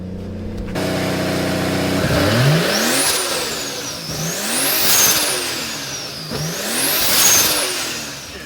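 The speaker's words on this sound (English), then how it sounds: "let it warm up and then we'll rev it up and see how it sounds" A car engine with a new ISR turbo on an RB25DET idles, then revs up loudly several times in rising and falling surges, close by with no talking.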